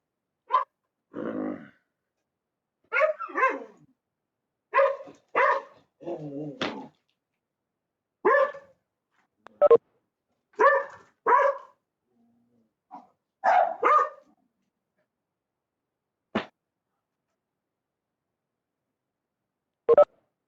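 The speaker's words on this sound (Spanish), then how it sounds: "Perdón por la interrupción, ahí un perro que tengo aquí atrás." A dog kept at the back of the house barks in scattered bursts, single and doubled yaps with longer gaps between them, fairly close and clear against silence.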